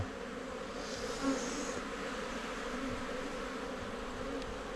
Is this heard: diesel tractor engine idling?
no